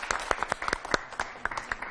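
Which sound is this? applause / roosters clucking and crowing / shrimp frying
applause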